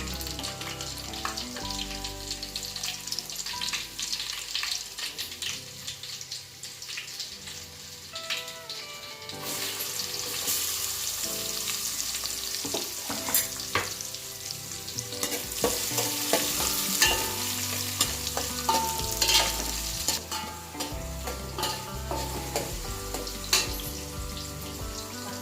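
Onion fries in hot oil with garlic and two bay leaves, a continuous close sizzle broken by repeated scraping stirs of a utensil against the pan, building louder midway.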